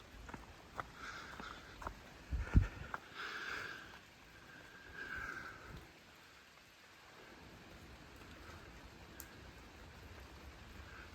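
Rain falling during a tornado-warned supercell thunderstorm over Ohio, a steady wash of drops with a brief loud thump or rumble early on, then settling into softer continuous rainfall.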